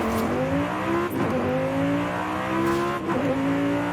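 A racing engine drones from inside the cockpit in a Forza Horizon 5 race car, pitch climbing steadily through gear after gear with brief dips at each shift, loud and continuous.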